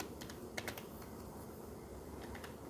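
Fingers typing code on a computer keyboard, a quiet close run of light clicking keystrokes with a short burst of quicker taps, over a steady low background hum and no talk.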